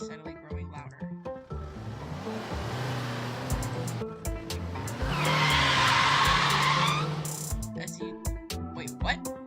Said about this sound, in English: you hear the faint rumbling of a car engine steadily growing louder